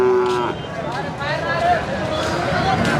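HF and Jersey cattle lowing amid a busy crowd at the Sardarnagar cattle market, with people talking over a steady murmur of market noise and a few longer moos standing out.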